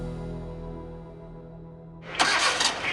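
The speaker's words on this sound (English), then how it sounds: "We are driving these old Jeeps which are ranging from 1940 onwards till the 1970s." An old restored Jeep, from a fleet built between the 1940s and 1970s, stays quiet behind a low hum for two seconds before its engine turns over and catches with a loud, rough burst.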